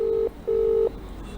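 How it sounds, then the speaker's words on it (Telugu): A telephone ringback tone on an outgoing call sounds as two clear, steady electronic beeps, the second longer than the first, over faint line hiss. "మళ్ళీ రింగ్ అవుతుంది."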